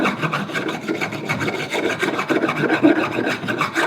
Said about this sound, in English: 2 hands on my file here, and just work this little area back and forwards